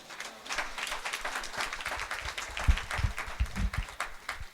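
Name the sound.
congregation applauding and acclaiming Jesus Christ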